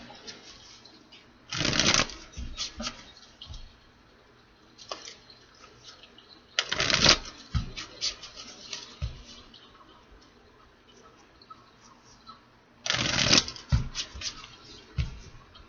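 Three bursts of a deck of cards being shuffled, each a quick riffling flutter, with quieter card handling and taps in between.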